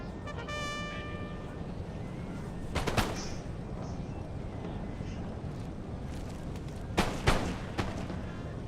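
Napoleonic battle in Napoleon Total War: distant booming artillery and musket volleys crack out as a couple of sharp bursts around the middle and near the end, over a steady rumbling battlefield ambience.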